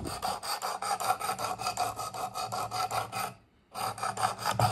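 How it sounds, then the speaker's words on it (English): Work Sharp Precision sharpener grinding a Lenox knife blade, giving a steady close rasping scrape in repeated strokes, with one brief pause before the grinding resumes; no speech. "you can see I'm starting to grind that marker off on this side"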